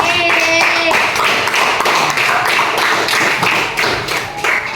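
Loud applause from a group of people in a classroom lesson, dense overlapping claps continuing steadily without talk.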